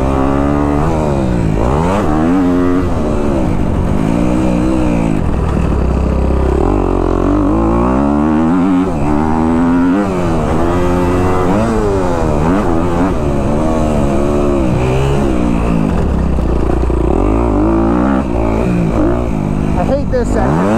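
A Kawasaki KX250F dirt bike is ridden hard off-road, its engine loud and close throughout, revving up and down continuously as the rider works through the throttle with shifting pitch.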